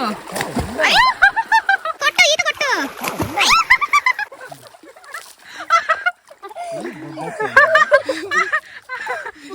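A child splashes water while swimming in a small tub during a summer family outing, giving repeated bursts of close splashing mixed with excited voices, laughter and adult talk throughout.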